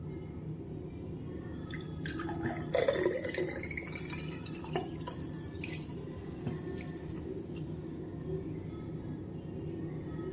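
Cooled butterfly pea flower tea strained into a vessel, with soft trickling and dripping of liquid, a small splashy burst early on, then quieter dribbles against low background noise.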